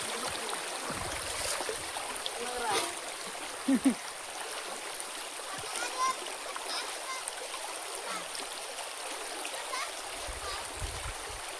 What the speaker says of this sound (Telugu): ఇక్కడ నీళ్ళు బాగా కారుతున్నాయి